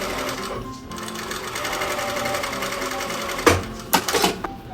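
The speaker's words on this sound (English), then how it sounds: "you're going to sew with a very long stitch length from your marked place here" A sewing machine runs a long gathering stitch along fabric for bloomers, a steady whirring hum with rapid needle ticking, ending in a few clunks as it stops.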